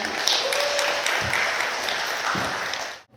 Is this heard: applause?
yes